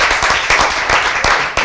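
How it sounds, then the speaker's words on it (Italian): Applause and clapping from an audience at a live Italian television broadcast, a dense steady patter of many hands close and loud, with brief sharper bursts throughout. "Un applauso."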